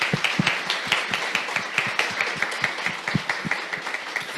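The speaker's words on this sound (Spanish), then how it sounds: "Aplauso, aplauso." A small audience at a neonatal nursing talk claps in a sparse, rhythmic round of applause, individual hand claps standing out distinctly at close range.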